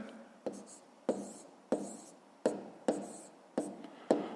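A pen writes down a math sum on paper in short repeated strokes, roughly seven quick scratches in an even rhythm, close by and soft.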